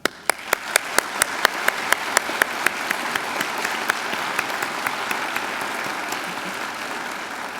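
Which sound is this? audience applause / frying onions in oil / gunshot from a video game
audience applause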